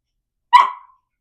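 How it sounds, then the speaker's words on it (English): A dog lets out a single sharp, loud bark close by, which fades quickly into silence. "I apologize for my dog flipping out the whole time."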